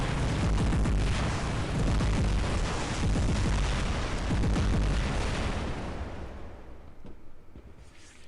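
Noricum weapons fire in the War Robots game, a dense continuous barrage of explosive booms and bursts that rumbles loudly for several seconds before trailing off.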